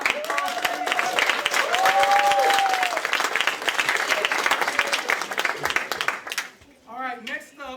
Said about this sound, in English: Can we give this a big round of applause